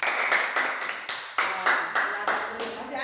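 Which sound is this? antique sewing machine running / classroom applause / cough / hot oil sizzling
classroom applause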